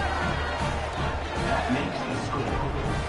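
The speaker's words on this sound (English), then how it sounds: "boy, did that last drive quiet this crowd" Steady crowd roar fills a college football video game stadium, Fresno State against a CPU opponent, a dense continuous murmur with faint cheering swells throughout, running under the broadcast commentary.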